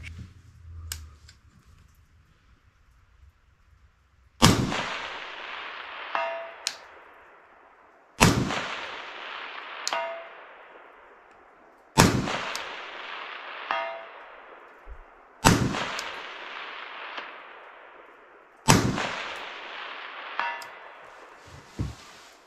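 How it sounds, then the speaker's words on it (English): An SPR/DMR rifle is fired at an outdoor range in five single shots spaced a few seconds apart, each a sharp loud crack with a long ringing decay, plus a faint distant pop early on. "So now we're going to go ahead and try shooting this at some range."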